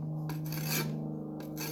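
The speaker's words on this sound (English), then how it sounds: "sharpen it with your brick" A shovel blade being sharpened by rubbing a brick along its edge, a few close, gritty rasping strokes over a steady low hum.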